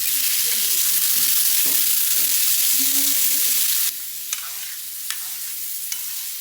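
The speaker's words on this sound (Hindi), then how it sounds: "प्याज, मटन शामिल करें और अच्छी तरह पकाएं।" Onion and mutton fry in mustard oil with a steady sizzle and the scrape of stirring. The sizzle grows brighter and louder partway through, broken by a few sharp clinks.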